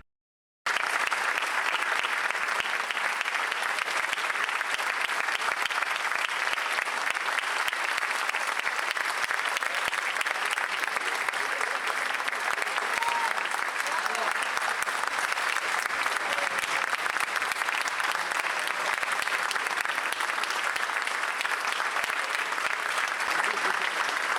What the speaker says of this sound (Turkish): program sonunda seyirciler sanatçıları ayakta alkışlayarak unutulmaz geceye damga vurdular